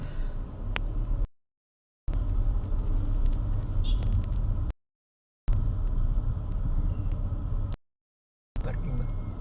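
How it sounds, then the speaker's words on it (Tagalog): Road traffic near a street-corner market rumbles continuously, with cars and engines passing close by in several bursts separated by brief gaps. "Very traffic."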